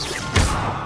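Levioso spell cast in the video game Hogwarts Legacy: a single short whooshing burst with a soft impact, close and brief.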